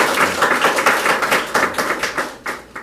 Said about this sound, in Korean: 이쯤에서 박수 주셔야죠.